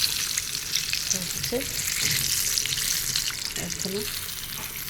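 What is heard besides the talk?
homemade capsi snacks frying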